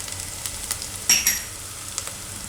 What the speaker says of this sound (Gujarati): ડુંગળી નાખીને એમાં આપણે હવે મસાલા બધાય નાખી દઈશું.